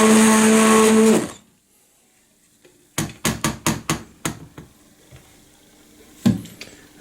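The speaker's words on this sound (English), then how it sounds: "It's now ready to be blended." A blender whirs loudly and steadily through simmered creamy tomato soup, then cuts off abruptly. A quick run of sharp knocks follows, then one more knock a few seconds later.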